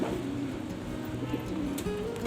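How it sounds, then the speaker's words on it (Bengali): A top-quality old-bloodline pigeon coos close by, its low, throaty rolling calls repeating steadily through the short stretch. "তো টপ কোয়ালিটির একটি পায়রা বন্ধুরা"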